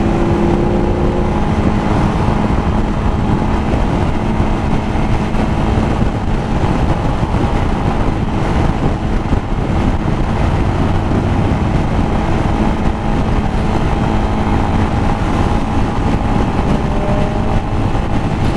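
Yamaha Lander motorcycle cruising at around 70 km/h, a steady droning engine hum under loud continuous wind rush, held at a constant pace with no voice heard.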